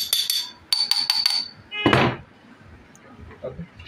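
Hammer tapping metal parts of a car power window motor, quick clusters of bright metallic taps followed by a heavier dull knock, then quiet workshop background.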